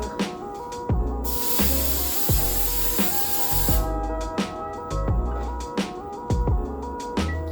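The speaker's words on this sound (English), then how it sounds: "You could take some hairspray. I'm gonna use some Tresemme hairspray" Tresemme hairspray gives one loud, sustained aerosol hiss lasting a couple of seconds, close by, over a steady background beat with regular thumps.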